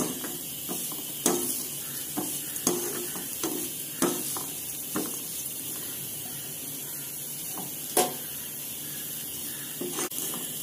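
Coconut rice being roasted and stirred in a pan, with a soft continuous sizzle broken by intermittent scraping and clinking strokes of a spoon against the metal, moderately close with no talking.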